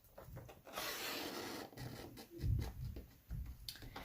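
Blade paper trimmer slicing along a paper envelope, giving a soft, close scraping rasp across several short strokes with handling thumps in between, fairly quiet.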